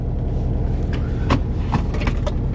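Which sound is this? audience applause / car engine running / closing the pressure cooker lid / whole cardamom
car engine running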